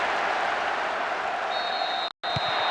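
Steady, dense roar of a stadium crowd cheering a goal in the PES 2009 football video game, loud and continuous with a brief dropout near the end.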